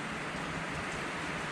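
Heavy, steady rain pours down outside a garage where a 1955 Chevrolet is being worked on, a dense continuous hiss with no pauses or voices.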